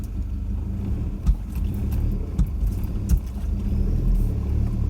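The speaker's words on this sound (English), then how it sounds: "I'm just going to gently tow you out" Vehicle engine rumbling steadily at low revs while gently towing a stuck vehicle free, with a few brief knocks and clunks over the continuous drone.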